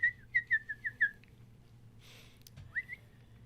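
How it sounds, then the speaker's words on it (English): A person whistles a quick run of five short rising-falling notes, then after a brief rustle and pause adds one more sliding note, close and clear over a quiet background hum. "Now with your whistling, they will allow it."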